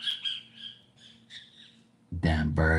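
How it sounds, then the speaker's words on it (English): Birds squawk loudly and harshly near the end, after a stretch of quieter background calls under a person's talk. "Damn birds."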